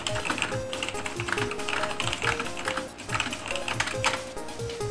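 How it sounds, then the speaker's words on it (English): Steady, continuous typing on a Logitech G310 Atlas Dawn keyboard with soft, membrane-like Romer-G switches, dense rapid keystrokes close by with a faint tonal hum in the background. "The Roma G key switches feels a lot like a membrane keyboard."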